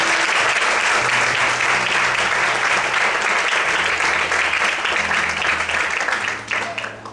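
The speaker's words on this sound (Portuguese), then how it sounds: "Você pode aplaudir bem forte" A church congregation claps loudly and steadily in a sustained, dense round of applause that holds at full strength for several seconds and then begins to taper at the very end.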